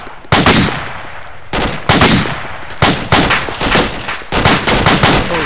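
Gunfire in the military game ArmA 2: several loud, close shots and short bursts arrive one after another, each trailing into a long rumbling echo.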